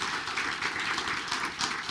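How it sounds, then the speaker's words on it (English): A short burst of applause at a township committee meeting, a crowd clapping steadily at moderate volume with no voices over it. "I think just a round of applause, even though they're not here."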